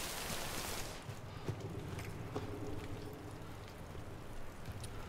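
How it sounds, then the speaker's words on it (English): Rain in the video game Death Stranding falls as a steady hiss of drops on surfaces, with a brief louder gust at the start and occasional faint ticks, fairly quiet and alone. "The rain seems to be quite bad."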